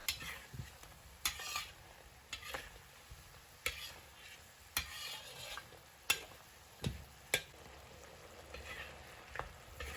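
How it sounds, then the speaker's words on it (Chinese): Braised pork ribs simmer over high heat as the sauce thickens, with a soft steady bubbling and sizzle broken by regular light ticks and clinks about once a second, close and quiet. "这时候我们转大火，把它收下汤汁，收到汤汁浓稠，几乎不含水分"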